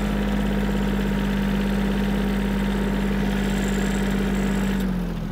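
Yanmar F-210 Japanese mini tractor engine running in fourth gear, a loud, steady low diesel drone with a firm rhythmic throb and a constant tonal hum, close by and continuous.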